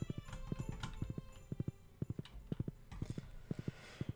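Horse hooves clip-clop steadily on the ground in the farming game Stardew Valley, a regular rhythmic walking gait of sharp close hoofbeats over a soft game music bed.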